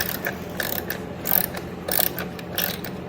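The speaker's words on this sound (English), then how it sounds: "so the skid plate will fall off when we undo this final bottom bolt" A ratchet clicks in quick repeated bursts while skid plate bolts are undone on a 1971 Yamaha RT1B 360 motorcycle, close and fairly loud with short pauses between strokes and no talking.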